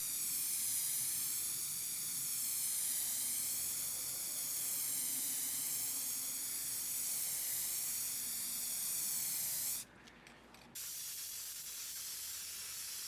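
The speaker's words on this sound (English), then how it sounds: "Now our first 24 by 24 sheet and an assortment of PCBs are prepared to be spray painted." Black spray paint hissing steadily from an aerosol can onto a 24 by 24 sheet and an assortment of PCBs, a long continuous spray that breaks off briefly near the end before resuming more quietly.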